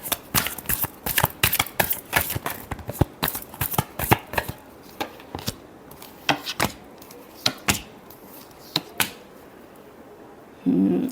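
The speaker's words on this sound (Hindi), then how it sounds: "Last shuffle." Tarot card deck being shuffled nearby, a fast irregular run of crisp riffling slaps and flicks that thins toward the end, with no talking.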